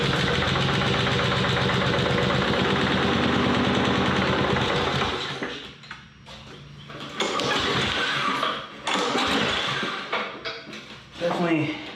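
An old junk lawn mower's small engine runs loud and rough for several seconds, then sputters and dies back before catching again in uneven bursts, starved of fuel, with a person talking over it.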